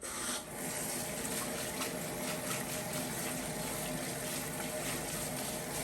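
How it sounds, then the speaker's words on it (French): Soaked soybeans are rinsed under running water, a steady gushing stream from a tap splashing into a bowl or sink, close and continuous with no speech. "Il faut juste rincer. Bien égoutter."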